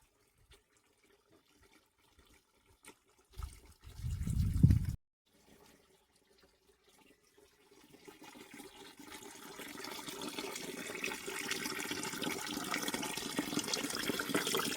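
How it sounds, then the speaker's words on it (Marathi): A mountain stream with plenty of flowing water on the Kalsubai trek, heard as a steady, broad rush of water that swells in after a few quiet seconds and holds on continuously, fairly close. "इथं सुद्धा एक पाण्याचा वाहत जरा आहे. भरपूर पाणी आहे इथं"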